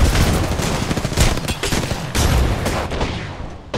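Dense, rapid gunfire from the shooter game Apex Legends crackles almost nonstop for a few seconds, loud and close with overlapping bursts and no talk.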